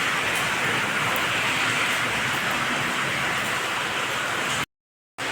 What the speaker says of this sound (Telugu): మంచి వర్షం పడుతుంది చూపిస్తా చూడండి